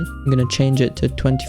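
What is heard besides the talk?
No everyday noises stand out.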